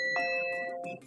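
Phone notification tone like a doorbell: a single clear two-note ding-dong chime, close and bright, ringing out and fading over about a second.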